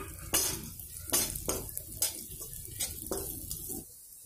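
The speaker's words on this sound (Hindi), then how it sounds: "देखिए दोस्तों हमारा किशमिश भी अच्छे से फ्राई हो गया है" Raisins sizzle and pop in hot ghee with a few sharp bursts as they are stirred, while a spoon scrapes and clinks against the pan, close and fairly quiet.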